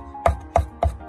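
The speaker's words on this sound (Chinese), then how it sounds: "最后改刀剁成蒜末" A kitchen knife mincing peeled, flattened garlic cloves: four crisp, evenly spaced chops land on the board close up, each a sharp thud.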